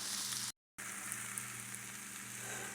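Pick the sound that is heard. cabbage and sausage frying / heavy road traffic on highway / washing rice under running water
cabbage and sausage frying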